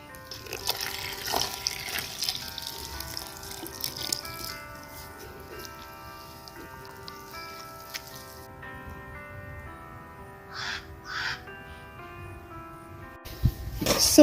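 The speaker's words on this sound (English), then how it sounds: "just going to pour some water in here." Water is poured from a container onto dry coconut coir, giving a moderate splashing trickle with light rattling, then quieter patches and a couple of brief splashes near the end.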